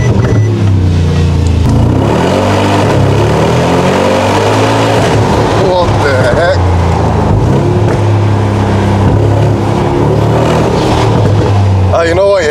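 Custom-tuned Mercedes G63 AMG engine roars loud and close, revving up and down repeatedly with a deep rumble, while people talk over it.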